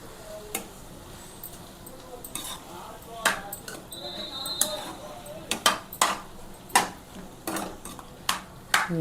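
A spoon scrapes and knocks against a pot while cucumber chutney cooks, giving irregular close clinks and taps that grow more frequent toward the end over low background noise.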